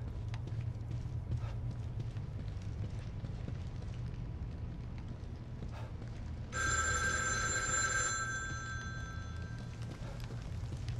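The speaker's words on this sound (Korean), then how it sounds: "전화기" An old telephone rings in The Evil Within 2, a bright metallic ring that bursts in about two-thirds through and persists over a low ambient game drone with scattered footsteps.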